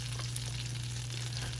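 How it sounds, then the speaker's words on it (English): Bananas for bananas Foster sautéing in a hot pan, a steady close sizzle and hiss running unbroken throughout with no voices. "I'm gonna saute up those bananas"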